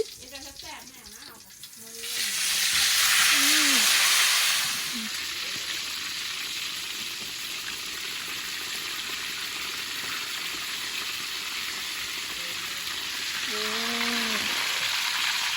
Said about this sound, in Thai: ทอดปลาค่ะนี่ทุกคน